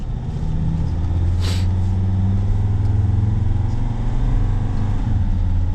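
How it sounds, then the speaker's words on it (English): A 2006 Sprinter van's turbo diesel engine runs in a steady, loud low drone from inside the cab, with a brief whistle-like rise early on and no talking. "But let's hear the turbo."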